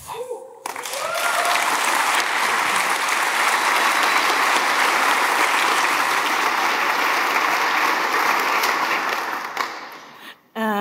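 Loud, sustained applause from a conference audience welcoming a keynote speaker on one year since Snowden, a dense continuous roar of clapping that fills the room before dropping away abruptly at the end.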